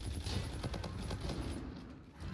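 Gunfire in the Infinite Warfare multiplayer video game, a rapid automatic burst of repeated shots at moderate distance that drops away near the end.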